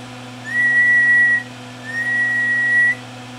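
Someone whistles into a microphone to test the output of a homemade sweep tube linear amplifier built with 6LQ6 tubes, producing two steady, loud, pure whistle tones of about a second each over a constant low hum.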